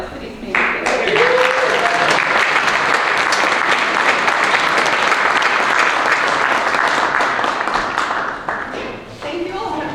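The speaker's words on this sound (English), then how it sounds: "another amazing round of applause for these amazing kids" Sustained audience applause for young performers, including a drummer, at an African American Heritage Night concert, a dense, loud wash of many hands clapping that swells quickly and holds for several seconds, with a voice briefly heard at the edges.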